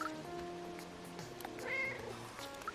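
A cartoon cat meows in a video game, the cries blending with steady background music and game sounds across the short stretch.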